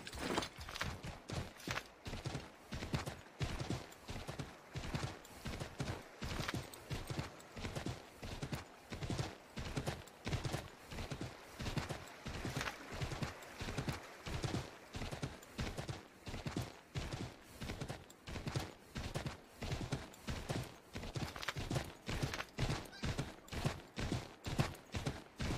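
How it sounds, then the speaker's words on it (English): Horse hooves from Assassin's Creed III clip-clop in a steady, rapid trotting rhythm, loud and close, continuing for the whole stretch with no pauses. "That's a horse."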